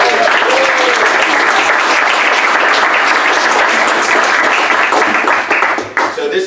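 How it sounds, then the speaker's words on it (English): A loud, full round of audience applause greets the opening of the Founder Institute Silicon Valley orientation session, with dense, sustained clapping from a packed room that thins slightly near the end. "Let's give a round of applause."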